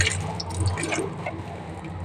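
Carrot, tomato and beans are rinsed in water, with soft dripping, splashing and squishy handling sounds, close and quiet, with no talk.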